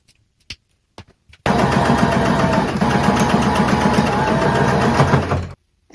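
A sewing machine runs in one steady, loud burst lasting about four seconds as it hems fabric cut from thrifted clothing, preceded by a few short clicks and taps and followed by silence.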